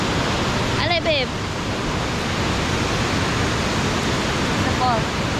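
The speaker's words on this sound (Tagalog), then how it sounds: "The falls." Mantayupan Falls, a waterfall in southern Cebu, pours with a constant heavy rush of water, loud and even, while brief voices break in faintly near the start and end.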